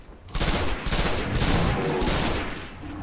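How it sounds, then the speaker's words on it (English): Dense video game gunfire from Destiny, a sustained fusillade of rapid overlapping shots and bursts, loud and close, filling the whole stretch without pause. "who'da make up all that noise and all those gunshots?"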